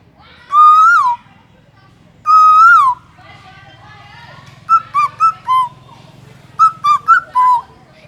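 A child whistles an imitation of an Asian koel call: two long rising-falling notes followed by a run of shorter clipped notes, loud and close, with no other sound.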